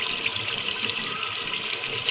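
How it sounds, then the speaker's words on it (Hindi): Water poured steadily into a pot of browned, fried meat for a home-style gosht curry, a continuous rushing, splashing pour heard close up with no talking. "अब इसमें पानी डालेंगे, इतना पानी डालेंगे कि शोरबा भी रह जाए"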